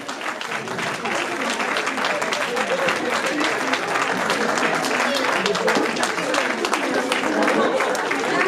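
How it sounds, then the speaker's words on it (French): Audience applauding groups on stage at a local talent show, a steady wash of clapping that holds loud and dense from start to finish, with voices mixed in. "On va les applaudir encore une fois."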